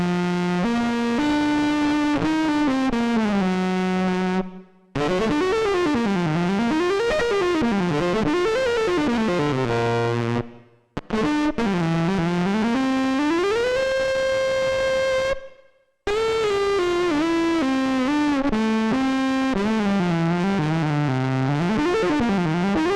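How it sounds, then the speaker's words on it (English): A saxophone played through a Gamechanger Plasma distortion pedal, heavy fuzz, buzzy and electric, with sliding melodic phrases and a few brief pauses between passages. "It's a very kind of fuzzy, electric-y, strange sounding distortion"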